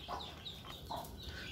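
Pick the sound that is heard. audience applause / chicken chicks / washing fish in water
chicken chicks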